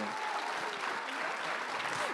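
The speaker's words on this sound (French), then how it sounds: "Je vous demanderai d'ailleurs d'applaudir très fort" A school audience at a secondary-school talent show final applauds, a continuous wash of many hands clapping, moderately quiet and even throughout.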